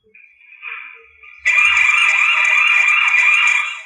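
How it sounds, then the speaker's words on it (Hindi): WiFi CCTV camera's motion alarm sounds: a thin electronic tone wavers for about a second and a half, then jumps to a loud, steady, piercing siren-like wail that holds to the end. "कैमरे के अंदर जो भी मोशन ये डिटेक्ट करेगा तो ये उस वक्त अलार्म बजा देगा"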